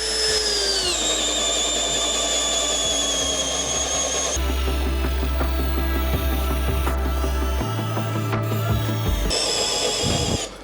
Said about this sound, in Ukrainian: в нас якби тест, півметрове сверло. Давайте спробуємо, чи зможу просверлити.